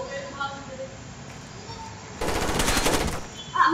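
Burst of rapid automatic gunfire in the video game Rainbow Six Vegas, a dense rattling volley lasting about a second, with faint game noise and quiet talk before it.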